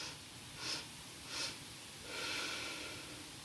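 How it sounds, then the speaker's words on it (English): Three short sniffing breaths in through the nose during a yoga breathing exercise, soft and close, with a slightly longer third inhale and no talking. "the little sniffs in can be just a little tiny one"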